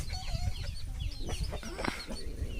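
Chickens clucking in a village yard, a dense, close run of busy clucks and squawks continuing throughout.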